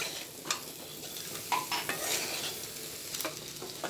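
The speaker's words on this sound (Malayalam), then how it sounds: "1/2 ടീസ്പൂൺ കായത്തിൻ്റെ പൊടി നല്ലോണം ഇങ്ങോട്ട് മിക്സ് ചെയ്യാം." Asafoetida powder being mixed into gooseberry (amla) pickle in a pan, with soft sizzling under several clinking, scraping stirs of a spoon against the pan at uneven intervals.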